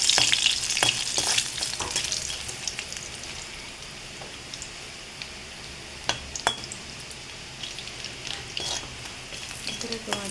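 Food frying in a pan and being stirred until medium brown, a steady close sizzle with scraping stir strokes, louder at the start and easing to a softer hiss.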